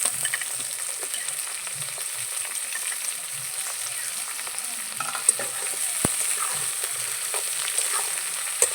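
Vegetables frying in a pan for a rustic village dish, a steady soft sizzle with light scraping stirs and a single sharp tap, close and without talking.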